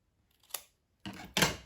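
Scissors bevel the glue strip of a paper box: one short, crisp snip, then a brief pause, then two quick close snips in succession, heard alone.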